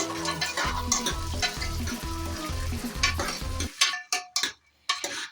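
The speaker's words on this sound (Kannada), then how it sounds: "ಅವರೆಕಾಯಿನ ಹಿಂಗೆ ಫ್ರೈ ಮಾಡ್ಕೊತಾನೆ ಇರಬೇಕು" Close, rhythmic scraping and stirring over a crackling sizzle of field beans frying in oil, ending in a few sharp separate clanks.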